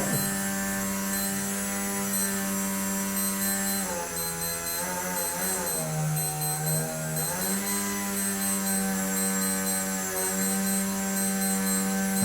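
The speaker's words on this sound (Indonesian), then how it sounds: "Itu DC motornya sudah mulai sambat ini." A DC motor driven by an NE555 timer circuit labours under load, a loud, steady electric whine and hum with tonal overtones whose pitch sags and wavers midway before settling back, continuous throughout.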